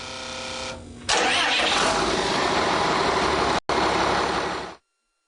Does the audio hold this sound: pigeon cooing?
no